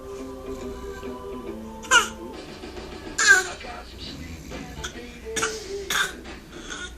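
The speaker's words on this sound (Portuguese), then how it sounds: "Ai, que tosse, meu Deus. Tá com muita tosse, filha?" A child gives a few short, sharp coughs spread through the clip, close by, among quiet babbling and soft vocal sounds.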